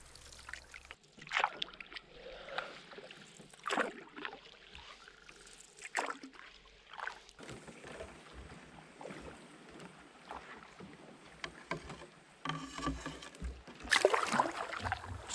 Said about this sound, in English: we've been paddling for 2 hours, and not a breeze.